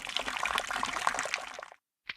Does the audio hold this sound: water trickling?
yes